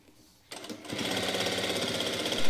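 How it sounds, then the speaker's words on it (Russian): A sewing machine stitches a warm jacket's lining close to the edge, starting after a brief pause and settling into a loud, steady, rapid mechanical whir that continues alone. "сейчас вот по самой подкладочке на расстоянии где-то 1 мм от края прокладываю строчку"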